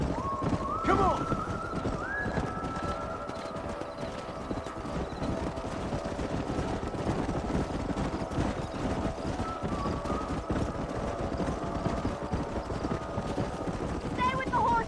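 Horses in the Red Dead Redemption video game, hooves clip-clopping steadily and a whinny early on, under continuous game music and effects with voices talking.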